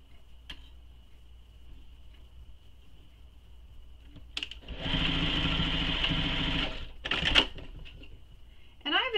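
A sewing machine stitches along the short edges of a clutch bag strap, a steady continuous whir of a few seconds that starts abruptly, stops, and then gives a brief final burst.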